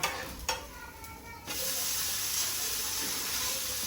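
Dosa batter frying on a hot pan, with a steady bright sizzle and hiss that swells after a brief scrape, close and continuous with no talk.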